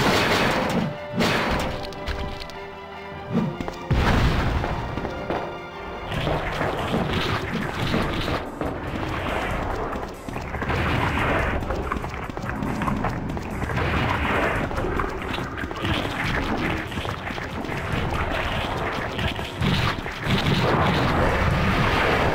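Rocket launcher blasts boom and crash in Resident Evil 2 on PC, a long run of heavy explosions and thuds layered over loud, continuous game noise.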